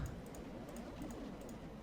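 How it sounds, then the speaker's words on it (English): Corsair K70 Vengeance keyboard keys clicking in a quick, steady stream of light taps, fairly close and continuous, with no voices. "Sorry for all my clicking. It's kind of loud."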